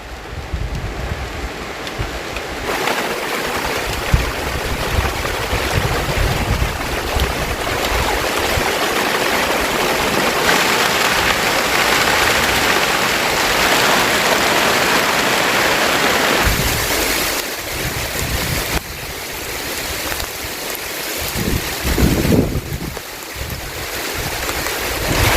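Heavy rain pours down with strong gusting wind around a garden hut, a steady loud roar of dense drumming and rushing air that swells and eases slightly throughout, with no voices.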